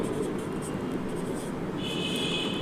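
Steady scratching of pen or chalk writing out a physics formula for semiconductor dynamic resistance, a continuous close scraping texture with no talk over it.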